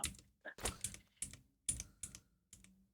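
Rapid clusters of crisp computer keyboard keystrokes clatter up close, irregular bursts separated by short pauses, quiet and with no voices over them.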